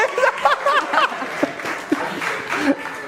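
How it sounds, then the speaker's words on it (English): Audience applause rings out at a live Logi Play 2024 global gaming event, a steady patter of clapping with scattered cheers and chuckles, while an announcer talks over it. "A round of applause."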